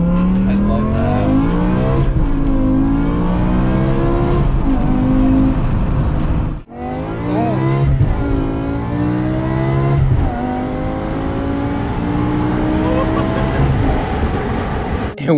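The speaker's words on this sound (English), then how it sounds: "it doesn't sound like a regular Beamer" Modified BMW engine revving hard, a loud, raspy, continuous roar rising and falling in pitch with a brief dip midway before climbing again, close up, with voices faintly underneath.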